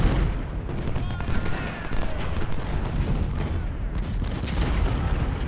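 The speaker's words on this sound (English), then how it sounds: "It appears Spencers got flanked by enemy artillery." Civil War artillery cannons firing in a battle in Ultimate General: Civil War, a dense run of booms and crackling shots with a rumbling background and faint voices.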